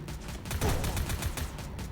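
Rapid gunfire in a video game, a dense burst of repeated shots fired in quick succession, loud and close, with no talk over it.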